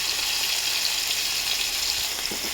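Black cumin seeds hit hot oil in a pan of lightly fried hilsa, giving a steady, loud, bright sizzle that holds evenly throughout, with a few faint clinks near the end.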